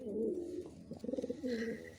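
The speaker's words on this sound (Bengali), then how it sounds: "আমার বাড়ির খুব একটা সুন্দর কবুতর।" A Kakji pigeon coos close up in repeated pulsing phrases, clear and alone, with a brief higher chirp near the end.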